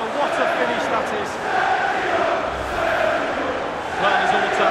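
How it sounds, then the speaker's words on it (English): Crowd cheering and roaring after a goal in the football video game FIFA 20, a dense continuous wash of massed voices rising and falling in waves, with a commentator's voice over it. "The crowd have gone crazy, and quite rightly so"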